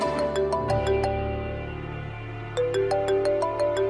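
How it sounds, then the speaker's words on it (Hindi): A phone ringtone plays a repeating pattern of bright electronic tones in two bursts with a short lull between, clear and close with no other sound over it. "ये देखो डीआईजी साहब का फोन आ गया।"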